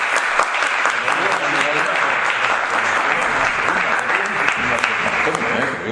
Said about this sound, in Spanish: le damos un fuerte aplauso a Miguel